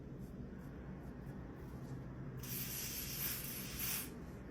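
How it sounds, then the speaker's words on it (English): Soft aerosol spraying of black spray onto a lace wig hairline hisses in a few short bursts, followed by a longer steady spray, close and fairly quiet. "Even black spray, spray the hairline lightly."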